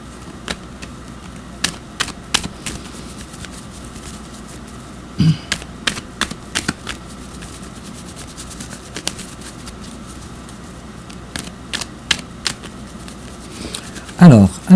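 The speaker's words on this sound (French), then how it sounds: "Et je continue de brasser les cartes encore un petit peu." A deck of tarot cards is shuffled close by in a quiet room, with many sharp, rapid card flicks in bursts separated by short pauses.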